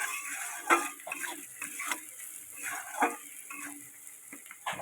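Vegetables stirred in a hot pan with prawns give a steady sizzle, broken by irregular scraping and clinking stir strokes, close and fairly quiet, with no talking.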